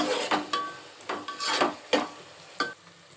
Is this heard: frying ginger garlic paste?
yes